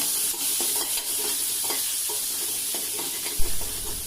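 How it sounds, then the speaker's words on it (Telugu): Asafoetida, dried red chillies and curry leaves sizzle hard in hot oil for a tempering, a loud, close, steady crackle broken by quick stirring clicks and a louder splutter toward the end. "ఇవన్నీ వేగిన తర్వాత కొద్దిగా కరివేపాకును కూడా వేసుకుని వేపుకోవాలి"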